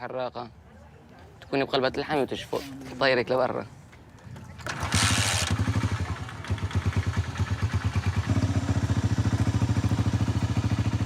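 A motorcycle engine runs near an oil refinery, carrying two children on the back; a steady, close, rumbling drone with rhythmic pulsing sets in after a stretch of voices and continues loudly to the end.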